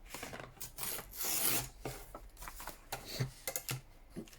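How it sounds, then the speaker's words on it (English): Paper torn by hand to trim the edges of a handmade concertina journal, a few close, quiet ripping strokes with short pauses between them and no voices. "I'm going to tear a bit off the top,"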